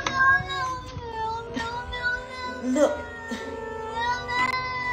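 A neighbour's cat meows repeatedly at the porch door, several loud, close, drawn-out cries in quick succession with short pauses between them.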